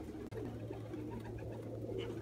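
Pigeons cooing at dusk during a peregrine falcon watch, a soft steady low coo running throughout alongside faint background noise, with a brief sharp click near the start.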